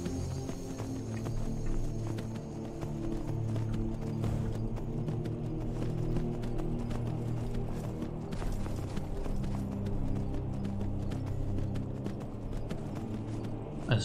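Horse hooves from Skyrim in a steady, continuous clip-clop as the mount walks over varied terrain, close and even, layered over a low ambient drone without any talk.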